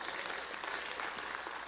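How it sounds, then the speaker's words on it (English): A church congregation claps in praise during a sermon, a brief burst of steady applause from a crowd. "Somebody give the Lord a great praise clap for that."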